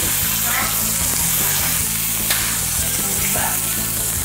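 Steak sizzles loudly on a hot iron plate during an eating challenge of roughly nine pounds of steak, a steady, dense crackle and hiss with a low rhythmic background underneath.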